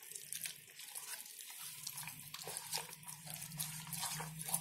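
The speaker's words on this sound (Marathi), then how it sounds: "आता त्याच्यामध्ये आहे ना थोडं पाणी टाकते, म्हणजे अर्ध पाणी आणि अर्ध दूध ओतायचं" Water trickles into thick pancake batter, a soft, fairly quiet pouring and splashing that runs unevenly for several seconds.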